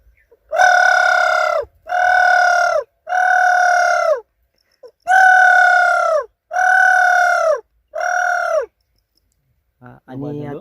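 A man imitates the call of a spotted dove with his voice, producing six loud, drawn-out tonal hoots in a steady rhythm separated by short pauses, followed by a brief murmur at the end.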